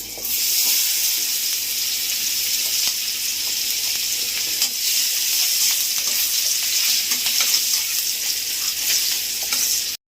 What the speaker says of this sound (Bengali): দেবো এই তেলে পেঁয়াজ কুচি